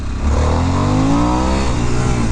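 A Harley-Davidson Sportster S 1250 motorcycle engine revs hard and close, its rising harmonic whine climbing steadily under acceleration for a couple of seconds without any talking.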